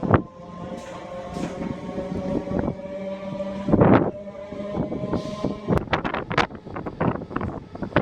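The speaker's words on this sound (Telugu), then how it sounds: "దేవరపల్లి నుంచి మన ట్రైన్ బయలుదేరింది" A MEMU passenger train rolls along after pulling out of Devarapalli station near the Karnataka border, a steady low rumble with tonal hum, scattered clanks and rattles, and sharper bursts of rattling near the end.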